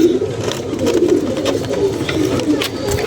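Pigeons cooing in a close, steady low murmur at a home loft where seventeen new birds are being let out, with soft overlapping calls running throughout and faint background noise.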